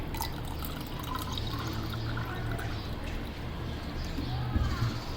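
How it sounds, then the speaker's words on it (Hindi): Cold water pours into raw mango sharbat in a kitchen, a steady splashing liquid stream lasting several seconds with a few drips, close and fairly loud, with faint background sounds under it. "मैं भी तेज़ ठंडा पानी ही डाल रही हूँ इसमें।"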